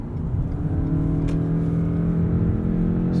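A 2017 Lexus ES300h hybrid car accelerates from inside the cabin, a steady low engine hum and whir with a rising drone, heard close and continuous without talk.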